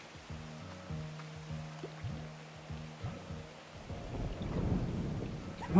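Thunder rumbles in a video game during a heavy lightning storm: several low, rolling booms over steady rain, swelling louder toward the end.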